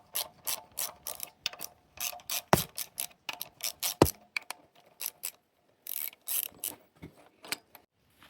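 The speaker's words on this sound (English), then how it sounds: "I've got this Icon puller that's gonna clamp the extension" An Icon puller clamps an extension to draw a stuck socket out of a big block Chevy main cap fitted with 3/8 bolts, giving close, crisp ratcheting clicks in short repeated bursts with brief pauses and no talk.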